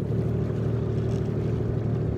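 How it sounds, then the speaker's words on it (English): An amphibious car driving through the water on a lake, giving a steady, even motor drone with water wash and no talking. "It's one of those amphibious cars."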